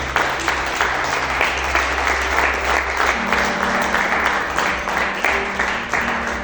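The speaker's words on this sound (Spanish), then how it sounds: "Dale fuerte una ofrenda de palmas al Señor." A church congregation gives loud, sustained applause as an offering to the Lord during an Easter resurrection sermon, dense clapping over a steady low instrumental drone.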